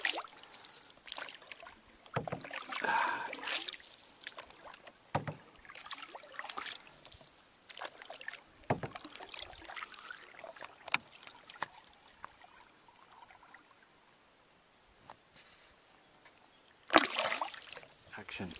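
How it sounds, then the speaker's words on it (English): Canoe paddled from the bow through lake narrows, with irregular paddle splashes, water dribbling and hull knocks under close speech. "pulling on the paddle at the bow as we enter the narrows to some lake"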